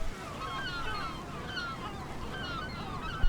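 Herring and great black-backed gulls at their breeding rocks, calling in repeated harsh honking and laughing cries that overlap continuously, moderately near over a low rumbling background.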